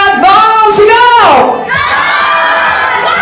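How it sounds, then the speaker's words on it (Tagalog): A crowd shouts together loudly in unison, a burst of many voices rising and falling, followed by continued cheering and chatter. "Sabay-sabay nga tayo sumigaw ng sana all."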